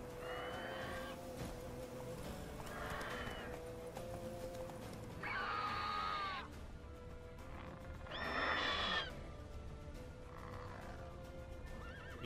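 Horse in The Witcher 3 video game, neighing in several loud bursts over a steady clip-clop of hooves, with game background sound throughout.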